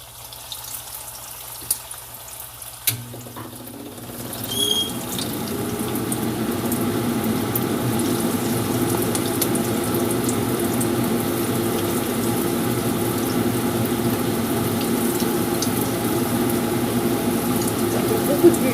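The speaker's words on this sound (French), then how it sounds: "Ça fait beaucoup de bulles." Macroute pastry dropped into hot oil sets off a sudden fizz, then a continuous dense bubbling and sizzling that holds steady for a long stretch.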